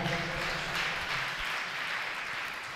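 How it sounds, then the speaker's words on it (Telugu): A church congregation clapping loudly and continuously, a dense, even wash of many hands with no pauses or speech. "కొట్టు చప్పట్లు గట్టిగా"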